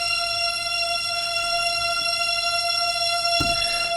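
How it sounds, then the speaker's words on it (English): A sustained Nexus string sound holds a steady, bright chord layered over a sparse electronic track, droning evenly throughout with one brief soft thump near the end. "And then I also added this string sound on top."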